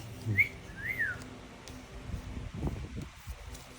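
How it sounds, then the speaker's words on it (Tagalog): A few short, rising whistled notes sound near the start over a steady outdoor background with rustling. "Sipol pa siya mga lods eh."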